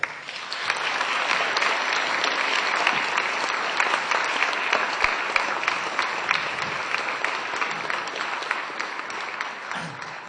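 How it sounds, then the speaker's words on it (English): An audience welcoming a speaker at an event on the future of the Net breaks into steady, sustained applause lasting about ten seconds, with occasional louder individual claps before it thins out. "give him a big round of applause, David Gemea."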